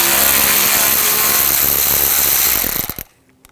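A ratchet fitted with a T25 socket spins out a screw on a 2000-2006 BMW X5 3.0L during AC condenser replacement, a steady close buzzing whir for about three seconds before stopping abruptly.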